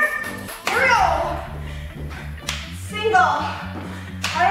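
Hands clap sharply in time during an aerobic workout, a few crisp claps over bouncy music, with an instructor's voice between them.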